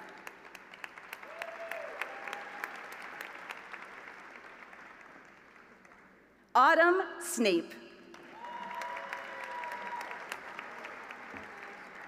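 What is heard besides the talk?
applause for Master of Science in Genomics graduates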